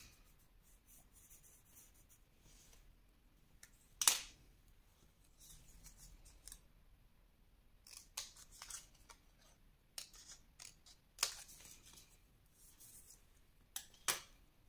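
Scissors snip paper for a pop-up photo scrapbook page: sparse, close, crisp cuts at irregular intervals with quiet rustling between, and no talking.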